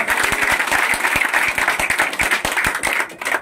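Crowd applause at an outdoor election campaign gathering, dense clapping with distinct sharp individual claps standing out, continuous and fairly loud before tapering at the end.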